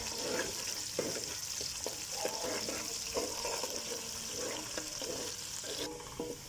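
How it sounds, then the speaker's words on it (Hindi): Chopped onions fry in hot oil for chicken yakhni pulao, a steady close sizzle with occasional stirring scrapes, loud and continuous with no talk. "तो यहाँ पे हम प्याज को भी अच्छे तरीके से सुनहरा कर लेंगे।"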